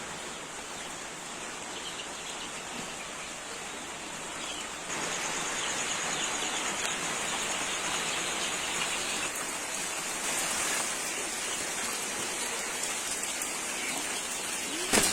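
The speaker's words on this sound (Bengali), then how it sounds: "এখন আপনারা দেখতে পাচ্ছেন যে আজকে সকাল থেকে অনেক বৃষ্টি" Heavy morning rain pours down on a poultry farm as a steady, dense hiss with no voices, growing slightly louder partway through.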